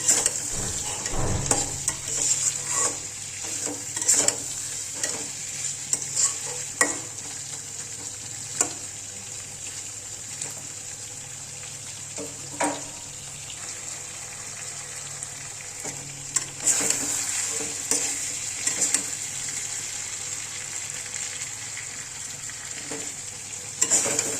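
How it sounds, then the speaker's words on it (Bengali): Chicken fries in hot oil in a pan and is stirred repeatedly, giving a continuous loud sizzle with irregular scraping and clattering strokes close by and no speech. "মুরগিটা একটু নাড়াচাড়া করে, আমি এখনও হলুদ দিইনি"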